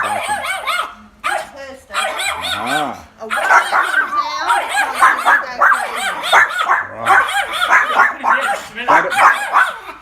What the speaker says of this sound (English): Quite a bit of barking.